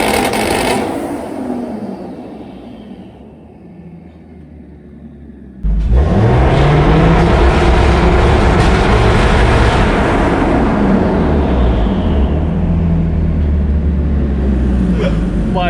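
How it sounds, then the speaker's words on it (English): A turbocharged Nissan 350Z with a single turbo on a stock block idles roughly nearby, then jumps to a loud sustained rev held on two-step launch control, harsh and rumbling with crackling pops, while voices talk faintly at first. "Alright, we're gonna use the 2-step."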